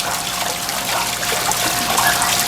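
Water trickling down a decorative rain chain of double lotus cups into a garden waterfall pond, a steady close splashing and dribbling with no pauses and no voices.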